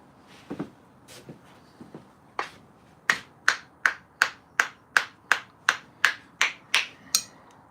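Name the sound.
hammer tapping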